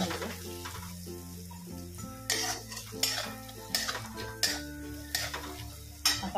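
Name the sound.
stirring soybean spice mixture in a pan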